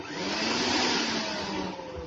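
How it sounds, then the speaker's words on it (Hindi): A kitchen mixer grinder runs, its motor whirring steadily at high speed, a dense broadband grinding roar that holds constant for about two seconds with no voices. "मिक्सी चलाओ।"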